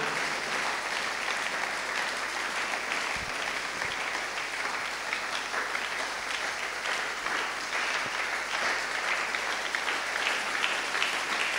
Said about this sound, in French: Tobeti maboko, beta maboko pona nzambe